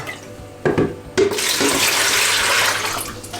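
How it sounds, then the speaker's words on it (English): Tap water pours steadily into an old milk bucket, a continuous broadband rush that starts with a couple of splashy bursts and then settles into a constant loud filling noise with no talk. "I'm gonna fill this one up with water."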